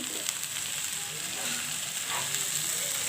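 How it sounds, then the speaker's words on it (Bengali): Cauliflower, potato and egg curry sautéing in a pan gives a steady, close sizzle, with occasional soft scrapes and stirring movements through it. "তো দেখুন এটাকেও আমি ভালোভাবে কষিয়ে নিচ্ছি।"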